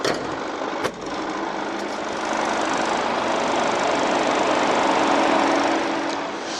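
The 2.0 diesel engine of a 2013 Chevrolet Captiva SUV idles with a smooth, steady hum heard close up, with a single faint tick early on.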